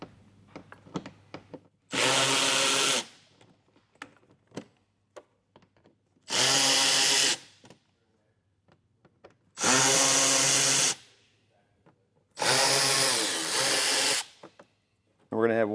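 A power driver backs out T15 bolts in the wheel well of a 2022 Chevrolet, four loud, steady whirring runs of about a second each, separated by pauses filled with small clicks and handling noises.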